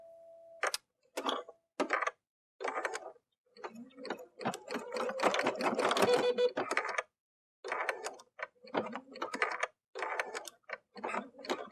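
A sewing machine stitches in short bursts with pauses between runs and one longer steady run in the middle, its needle ticking and whirring close and fairly quiet.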